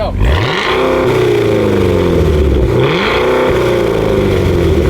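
A powerful super SUV engine revs hard twice, each rise climbing to a loud roar before easing back, close by with no talk.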